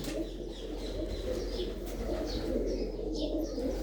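Domestic pigeons in a keeper's loft at Dheri Khanna coo softly and continuously in a low murmur, with a few higher chirps scattered above, close by and without talk.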